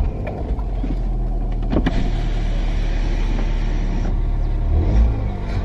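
A track car's engine cranks and starts up, settling into a loud, steady low rumble close by, with a brief rise partway through and no talking.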